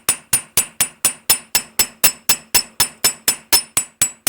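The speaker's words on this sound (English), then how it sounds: "I want to just put a cross peen texture" A polished cross peen hammer textures wire for a triangular-wire bracelet, striking about sixteen sharp, ringing metallic blows at a steady quick rhythm of roughly four per second, close and loud.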